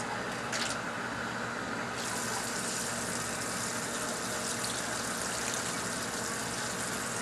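Water pours steadily into a pot of ground top sirloin chili, a continuous close rushing splash that keeps an even level throughout.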